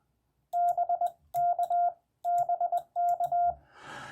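Morse code sent on a CW amateur radio key, the letters B and K run together as one character, repeated four times as clean steady tone beeps in a rhythmic dash-dot pattern, followed by a burst of noise at the end.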